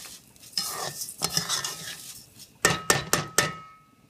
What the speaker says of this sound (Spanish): Vamos a freír nuestro arroz un poco.